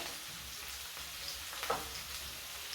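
Onions fry in a pan with a soft, steady sizzle and light crackle, fairly quiet and close, with no voices.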